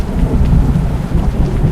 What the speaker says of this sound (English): Wow, that is some powerful thundering that's going on.